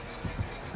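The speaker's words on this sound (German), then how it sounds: "Herzschlag, Herzschlag, oh Gott." Low, muffled heartbeat thumps in a horror video game, three soft double pulses spaced across a short moment over a steady dull background hum.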